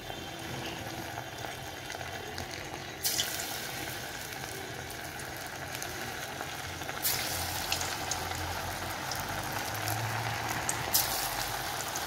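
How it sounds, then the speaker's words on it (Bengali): Steady, dense sizzling and bubbling of chicken pakoras deep frying in hot oil, continuous throughout with a few louder crackling surges. "আমার পকোড়াগুলো প্রায় ভাজা হয়ে এসছে"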